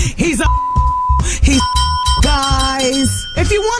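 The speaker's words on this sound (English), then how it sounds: "What was the beeps?" Steady censor beeps sound twice in succession, each about half a second long, cutting over lively talk on a morning radio show, with voices continuing around and between them.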